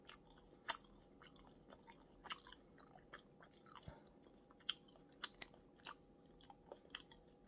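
Someone chews jjondeugi, a chewy Korean retro snack, close to the microphone. Faint, soft, irregular wet chewing and small biting clicks stand alone in an otherwise quiet room.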